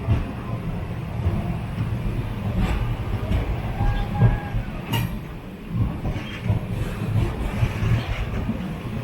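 The 12084 Jan Shatabdi Express rolls into Thanjavur station with a steady, broad low rumble and a few sharper metallic accents, continuous throughout at moderate loudness.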